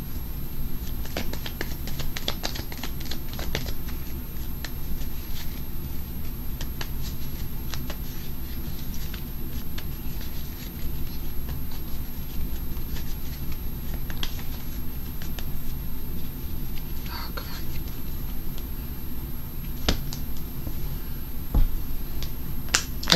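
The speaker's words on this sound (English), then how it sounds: "I'm going to pull out 3 Lenormand cards" Lenormand cards being handled and drawn from a deck: soft, scattered shuffling, sliding and light tapping sounds of card stock, close up, over a quiet room hum with no talking.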